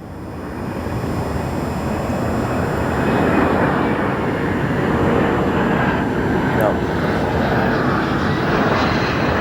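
Loud, steady jet roar from an airliner arriving at Chicago O'Hare, flying higher than usual on approach, with a broad rushing engine noise that swells slightly and holds.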